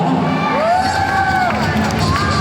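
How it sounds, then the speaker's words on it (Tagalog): A large crowd cheers and shouts together, with high whoops rising over a dense, steady roar of voices. "hindi ho natin sabay-sabay palakpakan at hiyawan"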